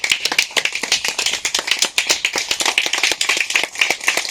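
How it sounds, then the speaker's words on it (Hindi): Standing audience gives a loud, fast, continuous round of clapping at a diet-camp gathering, with closely packed claps and no voices over them. "खड़े होकर जबरदस्त तालियों के साथ"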